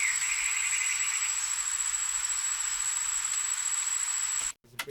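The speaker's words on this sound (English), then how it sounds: "This is basically like some crickets humming on the background." A steady high-pitched insect drone hangs over a quiet background, like crickets humming continuously, before cutting off abruptly near the end.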